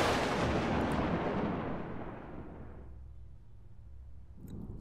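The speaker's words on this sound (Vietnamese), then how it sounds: "Trời nổ sấm chớp." A deep rolling boom of thunder in a mystery audiobook narration, loud at first and slowly fading into a low rumble over several seconds, with no voices.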